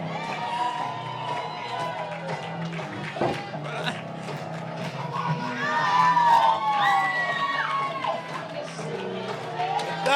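Crowd at a fight event cheering and shouting continuously, a loud dense roar of many voices with whoops rising toward the middle, voices talking amid the noise.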